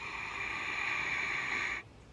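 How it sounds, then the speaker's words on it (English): Steady ujjayi breath made in the throat while breathing through the nose, a soft hissing, whisper-like exhale held for under two seconds before trailing off into quiet room tone. "So you create the sound in your throat, breathe through your nose"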